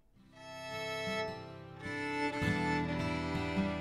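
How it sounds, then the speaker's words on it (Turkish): A violin plays alone, a short melodic phrase of clearly bowed notes that shift in pitch and grow fuller toward the end, heard close and at moderate volume. "Bu bir keman. Kemanlar böyle ses çıkarır."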